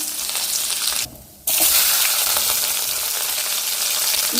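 Mustard seeds and curry leaves sizzle in hot oil in a pan, a steady close hiss and crackle broken by a brief drop near the start.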